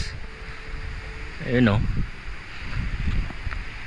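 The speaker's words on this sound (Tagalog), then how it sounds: "Ang lakas ng hangin, no?" Strong wind rushes outdoors on a bike tour in Infanta, Real, Quezon, a steady loud buffeting roar across the microphone that swells and fades, with a brief spoken voice partway through.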